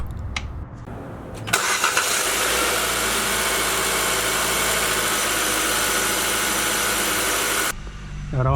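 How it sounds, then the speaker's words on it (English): A Nissan car with a CVT engine starts up and settles into a steady, even idle while warming up, a loud constant hum and vibration that cuts off abruptly near the end. "Here I just let the car warm up for a few minutes."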